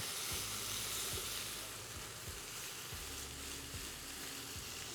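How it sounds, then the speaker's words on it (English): Beef sears in a superheated pan, a constant broadband sizzle and hiss with faint low knocks underneath, close and steady, no talking. "All right, then we got a nice little sear here."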